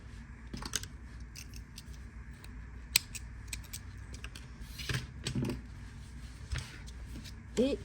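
Small scissors snip off the leftover yarn of a finished crochet cable-knit hat, a few quiet crisp cuts among soft handling and rustling close by.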